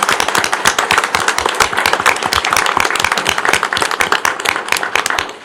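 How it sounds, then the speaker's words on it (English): Sustained applause from an audience at a Harlingen city commission meeting honoring a young girl, dense steady clapping that holds at full strength for several seconds before tapering off at the end. "can we give Mariana another big round of applause?"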